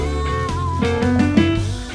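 A bluesy piano riff with a bass line and sliding upper notes, played at a moderate tempo with no voices.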